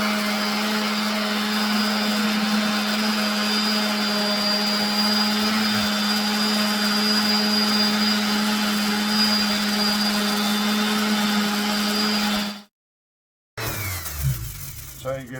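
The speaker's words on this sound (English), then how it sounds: "I just use a palm sander with 40 grit" A palm sander fitted with 40-grit paper sands a carved wooden walking stick, whining steadily with a constant motor drone for about twelve seconds before cutting out abruptly, followed by some brief handling noise.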